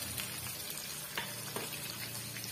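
Peeled garlic cloves and sliced onion fry in oil for a quick roadside-style chutney, producing a low, even hiss of sizzling with a few faint stirring scrapes.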